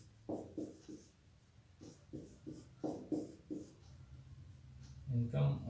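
Marker or chalk writing on a classroom board, a series of short scratchy strokes in quick bursts with pauses, close and fairly quiet, with a few brief voice sounds near the end.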